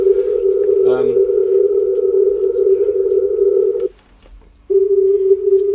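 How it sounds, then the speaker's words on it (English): Steady beating sine-wave tones hum continuously, broken by a brief chirp near the start and a short gap of silence before the tone resumes. "The more interferences you have, the more beating tones you can hear."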